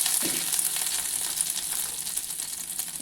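Dried red chillies with garlic and urad dal frying in hot oil for a cabbage carrot thoran, a steady close bright sizzle with faint stirring, no voices.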